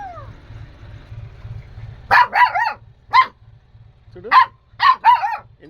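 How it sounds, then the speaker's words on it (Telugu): A puppy gives a series of high, sharp yips and barks in irregular bursts, close by, over a low steady hum. "చిన్న చిన్న కుక్క పిల్ల అగో"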